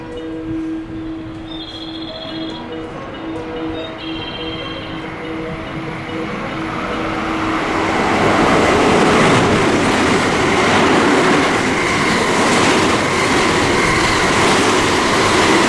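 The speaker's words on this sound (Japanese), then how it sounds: "1番乗り場を電車が通過します。" A JR West Biwako Line train passes through a station platform, its rumble swelling from a quieter start to a loud, sustained roar of wheels and rail noise, with steady tonal hums underneath early on.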